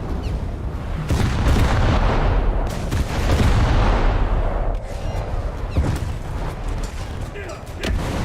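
Big 12-inch naval guns fire in a warship video game, deep booming blasts rolling into a dense continuous rumble of battle, loud and close throughout.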